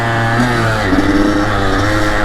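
A Kawasaki KX85 dirt bike engine drones steadily and loudly while riding mountain trails in New York, its pitch wavering slightly with small throttle changes, with no talking.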